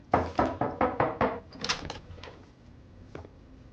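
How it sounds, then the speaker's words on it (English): Knocking on a hotel room door: five or six sharp, evenly spaced raps close by, followed by a few softer thuds and quiet room tone. "someone knocked on the door"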